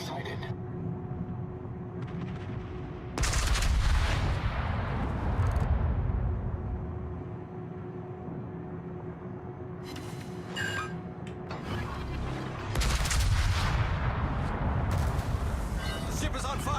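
Heavy warship guns boom in a World of Warships naval battle, two loud broadband salvos a few seconds apart with rumbling tails, separated by quieter engine and sea noise.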